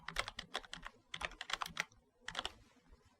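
Quick bursts of keystrokes on a computer keyboard as copyright text is entered into a metadata field, coming in three short clusters separated by brief pauses, close and quiet with no one speaking.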